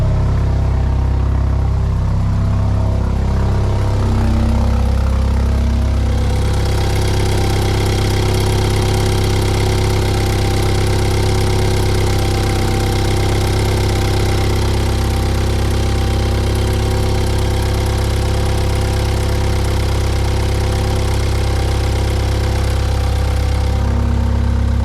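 A BMW Z4 E89 engine idling after a timing chain replacement, a loud, steady, even hum that settles into a smooth idle after the first few seconds, with no misfire and no talk.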